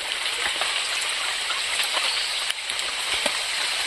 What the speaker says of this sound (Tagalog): naabutan pa tayo ng ulan